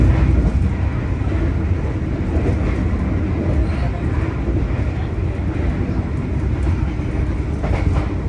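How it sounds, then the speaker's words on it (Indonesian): Argo Anggrek train passing straight through a station without stopping, a loud continuous rumble with wheel clatter rolling by close, steady throughout with no talk. "Argo Anggrek itu melintas langsung."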